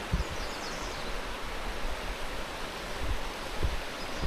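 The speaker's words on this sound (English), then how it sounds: "You got a little tiny cascading fall." A small cascading waterfall on the creek at Havasupai Campground gives a steady, close, full rush of falling water, with a few soft bumps from handling.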